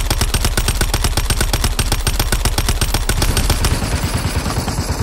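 Rapid automatic gunfire from the battle royale shooter Super People, a loud, dense stream of shots for about three seconds that then gives way to a rumbling background tail.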